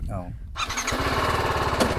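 A TVS Apache RR310 motorcycle engine revs and pulses close by as it runs through a couple of gears, with a steady throbbing exhaust note and someone talking over it.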